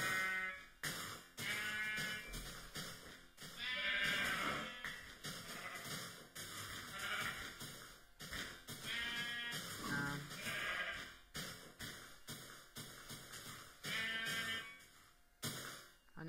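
Repeated sheep bleats from Minecraft come up clearly, several calls in an uneven rhythm with brief gaps, sounding close and alone without talk.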